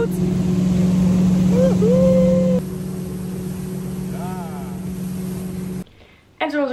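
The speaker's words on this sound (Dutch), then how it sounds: "We zitten op de boot." Steady drone of a motorboat engine running close by, with wind and water noise; the sound cuts briefly near the end and a voice comes in.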